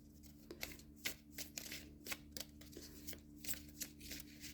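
Tarot cards being shuffled by hand nearby, a series of quiet riffling, flicking bursts that recur in an uneven rhythm over a low background hum.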